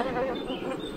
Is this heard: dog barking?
no